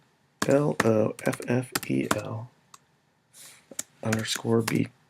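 Computer keyboard typing, with sharp clicks that are mostly masked by a person spelling something aloud. A few isolated key taps stand out during a pause.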